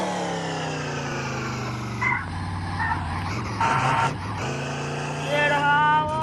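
A car speeds along in the video game Chicken Gun, its engine a sustained, loud drone with shifting pitch, broken by brief bursts of revving and screeching.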